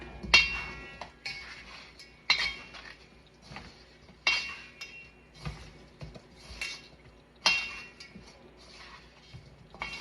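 Seasoned chicken wings for crispy baking are tossed and mixed in a bowl, giving repeated clinks and scrapes of a utensil against the bowl in an uneven rhythm, close and moderately loud, with no talking.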